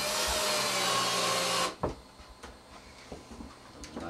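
Power drill driving a 1-inch drywall screw into 3/4-inch tongue and groove pine, a loud high whine for about a second and a half that stops sharply, followed by faint clicks and handling knocks.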